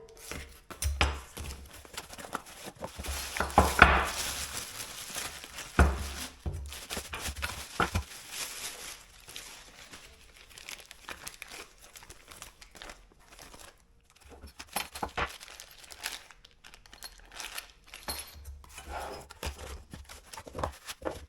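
Cardboard packaging for a BougeRV wall hitch mount rack being opened, with crinkling, tearing and handling noises that come in bursts, loudest early on and scattered through the rest.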